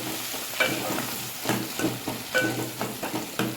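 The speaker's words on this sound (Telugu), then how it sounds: "ఆనియన్ పచ్చిమిర్చి బ్రౌన్ కలర్ వచ్చే వరకు ఫ్రై చేసుకోవాలి" Onions and green chillies fry in oil with whole spices and cumin for an egg masala curry, a spatula stirring in repeated scrapes over a continuous sizzle.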